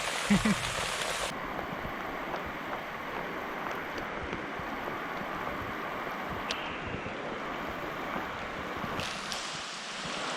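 Steady rain pours down in a forest, a dense even hiss of drops on leaves and ground continuing throughout with no break, and a brief thud near the start.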